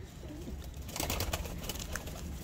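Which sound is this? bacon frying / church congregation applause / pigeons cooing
pigeons cooing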